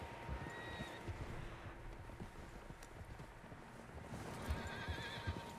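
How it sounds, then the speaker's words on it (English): Several horses in Red Dead Redemption 2 clip-clop along with steady hoofbeats and snorts, moderately distant and quiet, with a whinny rising near the end. "Horses, quite a few of them."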